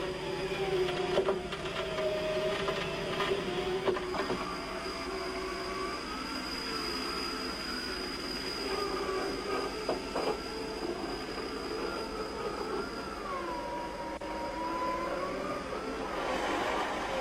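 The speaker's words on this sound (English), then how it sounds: "Keep checking that the cable is being wound up cleanly, but don't get too close." Vehicle winch on a Land Rover off-road recovery winding in its cable: a steady mechanical whine and grinding hum running continuously throughout, with shifting tonal sweeps and occasional clanks, fairly loud and close.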